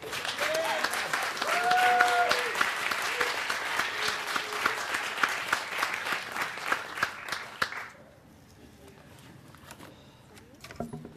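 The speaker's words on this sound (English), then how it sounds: "So let's give a round of applause for Diamond Lill." A theatre audience at a Valentine's event claps in a warm round of applause, dense and steady for about eight seconds before dying away to a few scattered claps, with brief voices heard over it.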